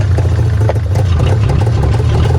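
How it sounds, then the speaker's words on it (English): Old engine of unknown running history idling roughly, a loud, close, steady low rumble with a clattery uneven pulse and no voices. "the fact that it's running and sort of halfway idling"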